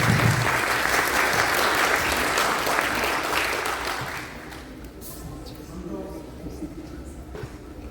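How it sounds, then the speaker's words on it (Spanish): An audience applauds warmly to welcome a guest speaker at a university lecture on civil liability, a dense steady roar of many hands that thins and fades over the last few seconds into scattered claps. "Recibamos a nuestro invitado con un fuerte aplauso"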